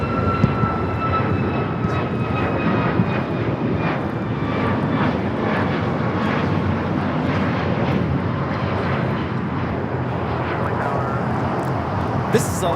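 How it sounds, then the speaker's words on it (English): An Alaska Airlines Boeing 737 MAX 9 takes off at LAX, bound for Portland, giving a loud, steady jet roar that holds evenly throughout with broadband rumble and faint whining tones; voices talk intermittently underneath. "This is Alaska Airlines 1315 taking off to Portland on the MAX 9."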